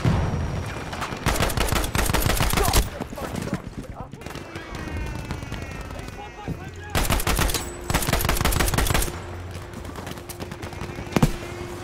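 Swedish AG-42 rifle fire in Battlefield V: repeated loud gunshot bursts in clusters with pauses between, plus distant battlefield gunfire and some voices.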